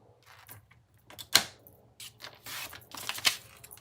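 Scissors cutting a folded Christmas card, a few sharp close snips and paper rustles separated by short pauses.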